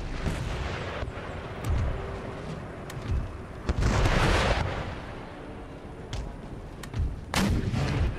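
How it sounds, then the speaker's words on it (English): Rockets and artillery fire in Empire Total War battle: rumbling booms and bursts layered over continuous roar, with louder blasts near one, four and seven seconds and sharp crackling impacts between them. No voices. "That's the rockets coming in."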